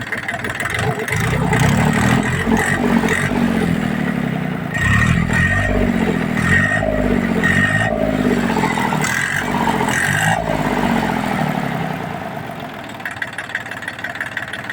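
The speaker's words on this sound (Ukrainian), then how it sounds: "Двигун вроді працює непогано" A nearby KM385VT three-cylinder engine runs steadily after a fuel-delivery adjustment on its third cylinder, with several revs rising and easing back throughout, then settles toward a lower idle near the end.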